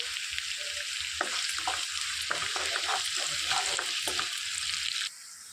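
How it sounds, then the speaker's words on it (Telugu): Onions and curry leaves fry in a pan of oil for a bottle gourd curry, making a steady hiss with scattered crackles and spoon stirs, until the sizzle suddenly quiets near the end. "ఇందులోనికి ఒక రెక్క కరివేపాకు కూడా వేసుకొని వేయించుకోవాలి."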